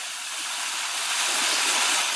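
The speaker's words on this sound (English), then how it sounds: "we've got something called strong waves" A strong ocean waves sound effect plays as a dense, continuous rushing hiss of surf that swells slightly louder toward the end.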